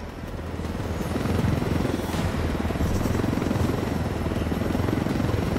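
Helicopter flying in the video game Ghost Recon Wildlands, a steady rotor drone and engine buzz that builds slightly and then holds at constant loudness, with no voices.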